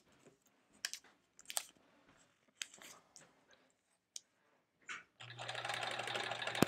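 Quiet clicks and handling noises, then a sewing machine starts up near the end and runs steadily with a loud, continuous mechanical whir.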